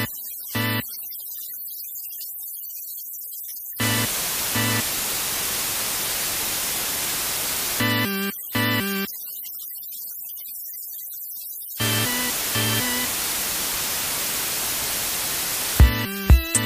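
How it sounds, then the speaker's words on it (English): A white noise test signal plays in long steady blocks alternating between out-of-phase and in-phase stereo, separated by short silences and brief beeping tones, loud and continuous with no voices. "You will now hear some white noise alternating between out of phase and in phase, beginning with out of phase."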